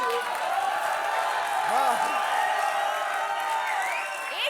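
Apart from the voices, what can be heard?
studio audience applause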